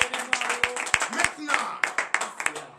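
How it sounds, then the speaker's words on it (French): A congregation at a morning prayer service in Benin claps in acclamation, rhythmic hand claps mixed with cheering voices, fairly close and lively. "Donnez de vive acclamation à notre Seigneur"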